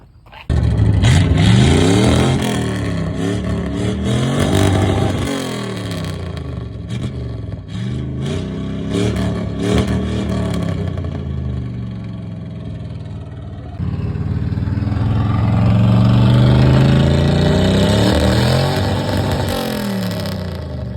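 A Pontiac Firebird's V8 engine revs repeatedly as the car is pulled out, with loud, close throttle blips and a rising, sustained surge near the end over steady engine rumble.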